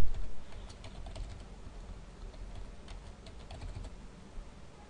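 Password being typed on a computer keyboard during Windows Server 2008 R2 setup: a continuous stream of soft key clicks over a low background rumble, with no voices.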